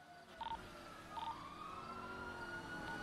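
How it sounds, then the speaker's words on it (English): Emergency vehicle sirens in a video game where a prison convoy is being ambushed, faint wailing and sweeping tones rising and falling at a distance over low rumbling traffic noise. "Sirens? Yeah, I hear a bunch of sirens."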